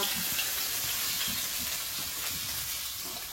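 Fresh fish frying in hot oil, a close, continuous sizzle and crackle with soft bubbling throughout.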